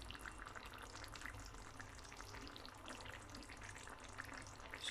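Fish curry cooks on medium heat, giving off a soft, steady sizzle and bubbling that stays faint and even throughout, with no talking.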